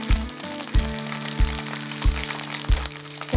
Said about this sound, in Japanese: 蓋を外し、タレを回し入れます。